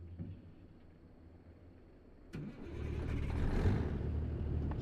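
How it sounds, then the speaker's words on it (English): A truck engine starting in American Truck Simulator: a quiet idle hum, then a sudden crank and a rising, louder rumble that settles into a steady running drone. "let's start our engines up here"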